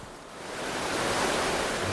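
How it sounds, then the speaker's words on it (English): Steady roaring rush of a gushing waterfall on a salmon river, a broad continuous wash of falling water that swells slightly louder after the first moment and holds, with no voices. "The gushing waterfall further upstream seems insurmountable."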